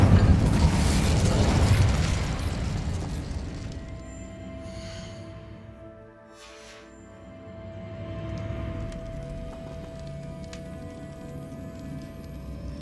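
A loud, whooshing fiery blast from the Incendio fire spell erupts in Hogwarts Legacy, then fades over a few seconds into a low hum and soft ambient tones.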